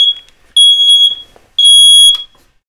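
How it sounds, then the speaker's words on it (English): A smoke alarm set off indoors in a basement sounds two loud, piercing, high electronic beeps, each about half a second long, separated by short gaps. It plays alone with no talking. "I set off the alarm"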